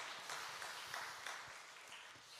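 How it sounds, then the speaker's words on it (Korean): A church congregation gathered for a Tuesday dawn prayer service gives a brief, faint round of applause, scattered clapping that fades within a couple of seconds. "우리 박수 한번 할까요?"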